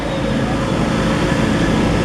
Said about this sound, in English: I'm on a mini train.